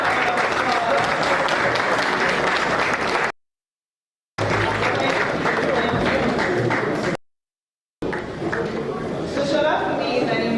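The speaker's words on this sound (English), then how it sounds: "Please give her a round of applause." Audience applause at a community meetup in Lagos, dense steady clapping filling the room in three loud bursts separated by short silent cuts.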